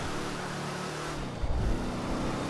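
A car engine in a video game drones with a steady low hum and a faint whistling edge, holding constant throughout with a brief louder swell midway.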